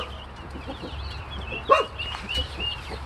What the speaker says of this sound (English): Whole bunch of little chicks.